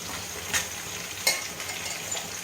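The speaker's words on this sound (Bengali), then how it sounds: "কাঁকরোলগুলো কিছুক্ষণ ভাজার পর আমি এর মধ্যে দিয়ে দেবো লম্বা করে কুটে রাখা আলু" Teasel gourd and long-cut potato strips fry in a pan with a steady, quiet sizzle, broken by a few brief scrapes of stirring.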